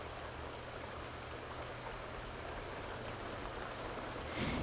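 Steady rain from The Sims 2 falls in an even, continuous hiss across the whole stretch with no talk, swelling slightly at the very end.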